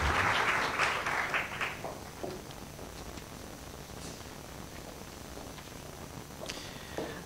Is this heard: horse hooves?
no